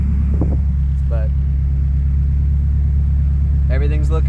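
A turbocharged Nissan SR20DE engine in a front-wheel-drive car idling after its first start, a loud steady low rumble throughout, with short bits of voice over it.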